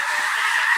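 A flock of snow geese in Arkansas honks in a brief, dense burst of overlapping nasal calls, loud and close.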